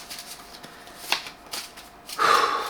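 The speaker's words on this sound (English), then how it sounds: "I'm shuffling." A deck of playing cards being shuffled by hand nearby, a few quick riffles and snaps ending in a longer, louder riffle.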